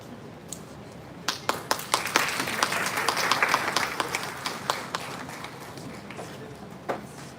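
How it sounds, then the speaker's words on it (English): An audience at a conference welcomes a guest: a few scattered claps swell into fuller applause, then thin out to isolated claps near the end, moderately distant. "as we extend a warm welcome to Mr. Amarjeet Sinha."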